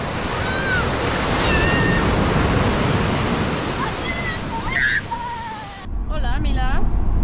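Big ocean waves surge and wash continuously on a beach, loud and close with wind buffeting the microphone, while children's voices call out over the roar.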